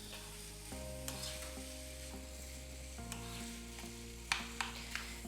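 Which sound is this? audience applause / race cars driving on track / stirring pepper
stirring pepper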